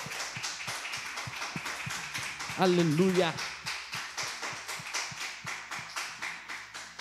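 A church congregation claps in a steady rhythm throughout, with a brief sung or shouted voice rising over the clapping partway through.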